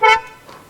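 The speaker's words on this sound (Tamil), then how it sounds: "ஹார்ன் எல்லாம் கூட ரொம்ப எக்ஸலண்ட்டாக இருக்குது." Car horn on a 2025 Hyundai Creta black top model, one short loud honk heard close and alone, fading quickly.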